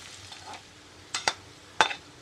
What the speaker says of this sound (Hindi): 1 टेबल स्पून यहाँ पर हम घी डालते हैं और 1 मीडियम साइज प्याज को बारीक कतर कर इसे लाइट ब्राउन कर लेना है